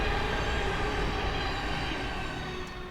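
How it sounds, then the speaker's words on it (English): Train rumble and rolling wagon noise pass close by for the whole stretch, a steady, loud broadband roar with faint wheel squeal, fading slightly at the end, no voices. "Ignore the trains as per usual."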